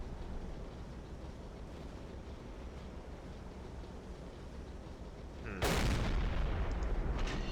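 A ship's deck gun fires 105mm high-explosive shells in the Silent Hunter 3 submarine game, one sudden loud boom breaking over a steady wash of sea and wind.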